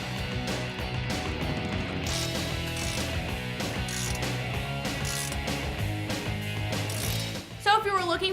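A ratchet wrench clicks rapidly and continuously while tightening the mounting hardware of a RedRock 4x4 textured black side step on a Jeep Wrangler Unlimited, the dense metallic ticking close and loud, ending with a few sharper clanks.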